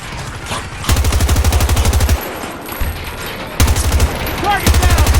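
Light machine gun fire in Battlefield 2042, loud rapid sustained bursts of automatic shots close up, broken by short pauses, with a player talking between the volleys.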